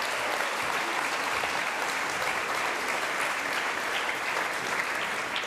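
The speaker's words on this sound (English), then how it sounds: "One applause for the future." Conference audience at a health systems plenary applauds steadily, a dense, even wash of many hands clapping throughout with no break.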